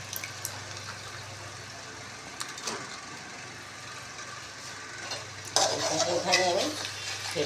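Spatula scrapes and stirs chicken with curd in a pan, a steady low sizzle beneath intermittent scraping, growing louder and busier near the end.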